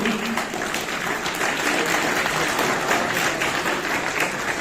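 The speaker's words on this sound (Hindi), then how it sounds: "तालियां वाली हो जाओ।" Sustained, thick applause from a crowd of students at a Kavi Sammelan poetry recital at IIT Kanpur fills the room, loud and even throughout, clapping alone without voices.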